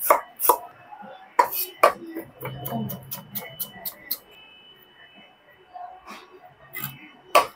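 Peeled ginger sliced thinly with a knife on a board, a series of quick, crisp cutting taps in short bursts, close up and fairly sharp, with quieter gaps between them.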